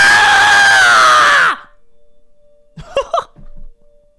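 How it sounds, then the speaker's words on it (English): A loud, sustained human scream meant as an alarm clock noise wails for about a second and a half, then cuts off into near silence before brief voiced sounds follow. "I didn't mean to scream that loud."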